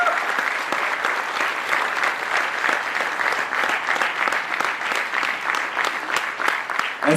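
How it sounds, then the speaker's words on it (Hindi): A crowd applauds a stage play at an arts festival, with steady, dense clapping held at full strength from start to finish and faint voices mixed in. "तालियां रुकनी नहीं चाहिए, बजती रहनी चाहिए।"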